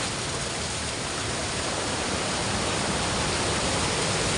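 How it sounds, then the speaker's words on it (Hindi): Water rushes steadily from two brim-full village springs in the Uttarakhand hills, a loud, close, unbroken wash of flowing water with no other sounds. "दोनों धारे लबालब भरे हैं देखिए।"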